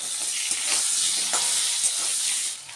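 Potatoes fry in oil with bay leaf, dried red chillies and black cumin, giving a steady close sizzle and hiss that holds for a few seconds with faint stirring and no talk.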